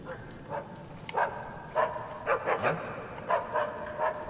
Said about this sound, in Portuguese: Ó, o cachorro late